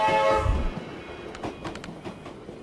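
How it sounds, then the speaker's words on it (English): A militia supply train rolls past in the video game Tactical Breach Wizards: a deep rumble swells at the start, then fades into scattered clanks and rattles with a faint tonal ring, with no voices. "Militia supply train southbound."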